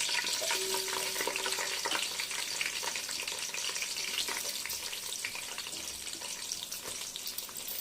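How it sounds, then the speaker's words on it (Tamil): Cardamom, cloves and onion sautéing in a pan for mutton biryani, a loud steady frying sizzle close up that carries on without pause throughout. "இப்போ நல்லா வதக்கிக்கலாம்"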